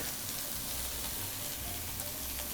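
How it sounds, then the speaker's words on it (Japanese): Miyazaki beef sukiyaki with green onions in a pan at a Kyoto Gion restaurant, sizzling loudly and continuously as warishita sauce is poured in, a dense frying hiss with no talk. "この割り下を入れるわけですね。"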